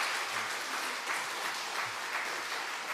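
A church congregation claps loudly for six teachers called forward at a Sunday afternoon service, a steady dense wash of applause held throughout without pause.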